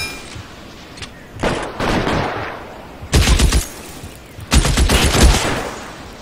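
Gunfire in a firefight in the video game L.A. Noire: a few loud bursts of rapid shots, each lasting roughly a second, separated by short lulls.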